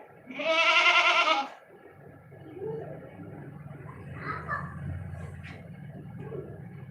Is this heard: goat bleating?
yes